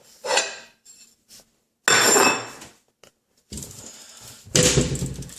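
A bowl is picked up and set down in a kitchen while pots warm for eggs and bacon, giving several separate sharp clatters and knocks of crockery against a hard surface, with quiet gaps between them.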